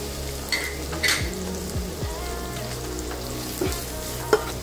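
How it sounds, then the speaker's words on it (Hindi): Ginger garlic paste frying in two to three spoons of hot oil for restaurant-style paneer chilli, a steady close sizzle with occasional stirring clinks and scrapes. "दो से तीन चम्मच तेल लेना है. सबसे पहले उसमें जिंजर गार्लिक क्रस्ट डालना है."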